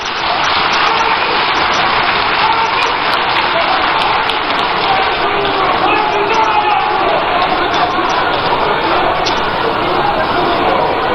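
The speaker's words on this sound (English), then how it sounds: "Another round of applause for the General Secretary" Sustained applause from a large crowd at an outdoor political manifesto launch rally in Winneba, loud and dense like heavy rain, running unbroken throughout.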